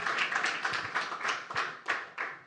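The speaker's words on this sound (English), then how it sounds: "Clap it up." An audience at a live podcast taping claps together in a rhythmic series of about eight sharp bursts, close and fairly loud.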